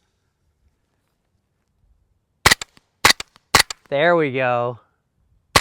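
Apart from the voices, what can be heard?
suppressed 9mm gunshots, Rugged Obsidian 9 silencer, Fiocchi ammo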